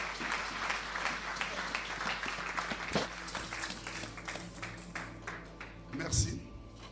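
A church congregation at a French-language service breaks into loud, sustained applause and clapping for several seconds, with voices mixed in throughout.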